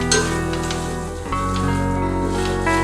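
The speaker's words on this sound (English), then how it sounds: "Now we are going to cook it on low flame till it becomes aromatic." Maida flour and butter cook in a pan on a low flame with a gentle continuous sizzle and faint stirring, over a steady humming background.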